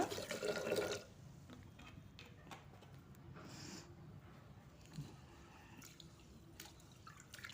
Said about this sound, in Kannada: ಅಕ್ಕಿಗೆ ನೀರು ಸೇರಿಸ್ಕೊಂಡು ಚೆನ್ನಾಗಿ ತೊಳ್ಕೊಳ್ಳೋಣ